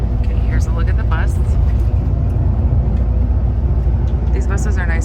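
A steady, loud low rumble from an airport bus in Mexico City running direct to the airport, heard from onboard, with brief voices over the engine drone.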